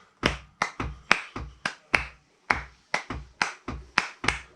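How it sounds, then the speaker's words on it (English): Hand claps beating out a clave rhythm, about fifteen sharp close claps in a repeating uneven pattern with short pauses, alone with no talk. "I'm going to clap you a clave."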